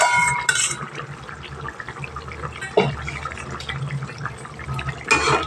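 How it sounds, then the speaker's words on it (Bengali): Pieces of fish and the oil left in their bowl are slid into a pot of boiled potatoes for a cauliflower and rohu fish curry, giving soft splashing and sizzling with small clinks, close and fairly quiet, no talk. "মাছগুলো এবার আস্তে আস্তে আমি এখানে দিয়ে দেবো। বাটিতে যে তেলটা আছে তেলটাও আমি দিয়ে দিই।"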